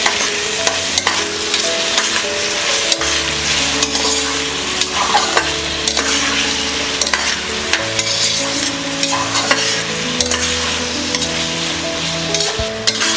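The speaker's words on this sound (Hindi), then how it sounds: "सारे वेजीज फ्राई हो गए हैं।" Capsicum, tomatoes and other vegetables fry in a pan for broken wheat dalia khichdi, a loud, constant sizzle broken by repeated scraping stirs, with nobody talking.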